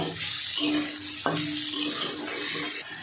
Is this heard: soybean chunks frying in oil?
yes